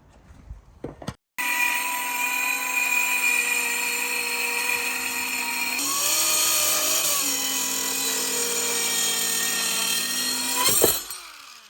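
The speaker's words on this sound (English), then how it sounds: "a tiny little lightweight DIY saw would cut through this big solid oak beam" A tiny lightweight DIY saw grinds steadily through a big solid oak beam for about ten seconds, loud and close, with a brief pitch change midway.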